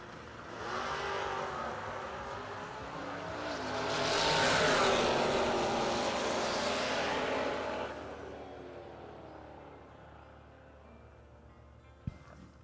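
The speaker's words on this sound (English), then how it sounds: "Jacob, 621 with his Camaro." Drag race cars, one of them a Camaro, launch down the strip with a loud sustained engine roar that swells to a peak and then fades as they pull away, ending in a single sharp knock.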